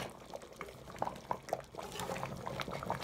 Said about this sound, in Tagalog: Naglalagay po ako po more chicken soup.